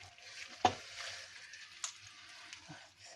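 Shredded chicken sizzles quietly in a pan while a utensil stirs it, with one sharp scrape and a few lighter knocks over a soft, steady fry.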